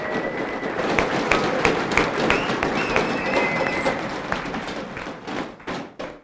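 A large audience at the grand finale of the Duke Start-Up Challenge applauds the pitch teams, with loud sustained clapping, sharp thuds and taps, and a swell that tapers off near the end.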